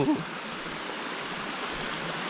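Rushing water at Kawali Falls in Sitio Camatis, DRT, Bulacan, a steady broadband roar of a waterfall-fed stream. It holds even and close throughout, with a short bit of voice at the very start.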